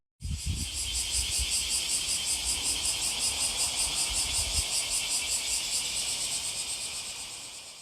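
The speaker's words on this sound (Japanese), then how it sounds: "まずはよく昼間に聞くセミの声です。" A loud, continuous chorus of daytime cicadas in a Japanese summer buzzes steadily with a rapid pulsing rhythm, close and dense, holding for the whole stretch before easing slightly at the end.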